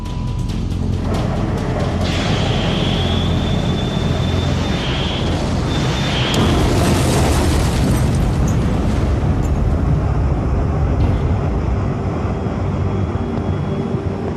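An aerial explosion from the Falklands war, heard as a loud broad roar and rumble that swells and keeps going, with a high whine passing over it early on.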